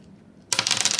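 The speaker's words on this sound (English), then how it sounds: "So go ahead and roll the dice." Ten-sided dice rolled onto a hard surface, a sudden loud clatter of rapid rattling clicks after a brief quiet pause, with no talking.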